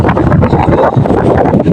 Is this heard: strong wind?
yes